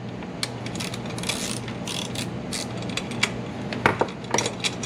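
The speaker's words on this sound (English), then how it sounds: "So loosen the screws, take that off. 4mm ratchet or hex." A 4mm ratchet loosens screws on a PL2004A printer's end stop, giving a light mechanical clicking with a few sharper ticks near the end over a faint steady background hum.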